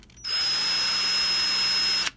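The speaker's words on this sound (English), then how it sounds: "I can just get in there, drill that head off." A high-speed drill bit drills off the head of a center-punched rivet on a 1974 Chevy C10 vent window, giving a steady, loud, close whine that starts suddenly and stops about two seconds later.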